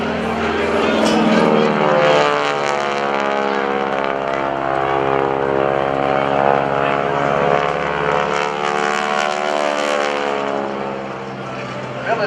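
A restored T-6 propeller trainer in Korean-era military configuration flies past at an air show, its loud droning radial engine holding steady and near throughout, with a rising and falling harmonic sweep as it passes.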